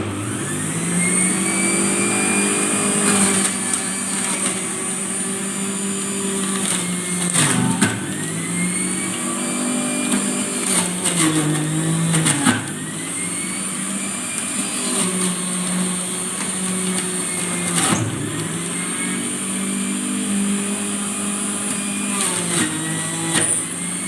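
An electric blender whirs while making carrot juice, a loud steady motor drone that swells and dips in repeated cycles, with short pauses between runs.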